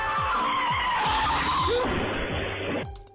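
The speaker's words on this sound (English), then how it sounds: "That was just like a movie sound effect car squeal right there" Tesla car tires squeal loudly in a long, sustained skid, with engine noise underneath, before the sound cuts off abruptly.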